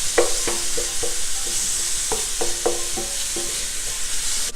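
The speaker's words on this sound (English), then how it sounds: "break the meat up with a spatula or a wooden spoon and get it mixed with the onions" Ground beef frying with onions in a hot pan for a beef and white bean chili, a loud continuous sizzle broken by repeated scraping knocks of a spatula or wooden spoon as the meat is broken up.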